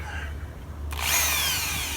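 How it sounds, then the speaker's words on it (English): A power drill starts up about midway and runs steadily at a loud, high whine, used while installing a carbon monoxide or smoke detector. "we have our drill"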